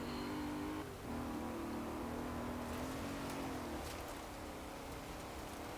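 Morgan car engine in Forza Horizon 4, a steady droning hum with a sustained tone that shifts slightly in pitch, heard fairly quietly and continuously with no talk.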